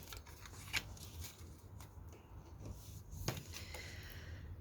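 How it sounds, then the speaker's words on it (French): Oracle cards in a deck are handled and one is drawn, giving soft, faint shuffling and sliding with a few sharper card snaps scattered through an otherwise quiet room. "je vais prendre la première carte"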